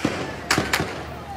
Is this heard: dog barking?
no